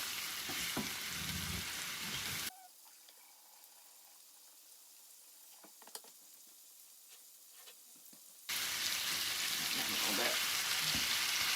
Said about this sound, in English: So I just want to cook my hamburger to brown it and break up the pieces